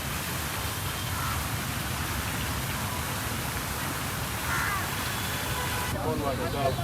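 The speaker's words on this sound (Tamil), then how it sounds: "மழை தூரிக்கிட்டே இருக்குது" Light rain drizzles over a flower garden, making a steady, soft hiss of fine drops on leaves and surfaces, with someone talking over it.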